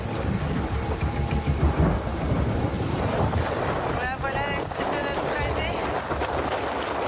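Heavy rain pours steadily while thunder rumbles through the whole stretch, a dense, loud storm wash with a few brief voices cutting in near the middle.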